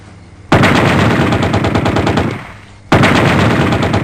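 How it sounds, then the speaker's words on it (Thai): A BB gun fired in two rapid-fire bursts, loud and close, the first lasting about two seconds before tailing off, then a second burst starting abruptly. "ก็ต่อไปเดี๋ยวยิงให้ดูครับยิงจากข้างครับ"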